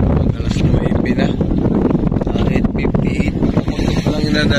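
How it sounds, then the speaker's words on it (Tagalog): Strong wind at sea on a small boat out squid fishing, a steady loud rushing and buffeting against the microphone, continuous and close throughout. "Ay, medyo mahangin pa rin."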